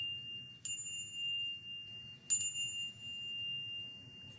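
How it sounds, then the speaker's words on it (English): A small bell rings twice, clear high tings spaced a couple of seconds apart, each note lingering over a quiet low background hum. "And he sounds his little bell."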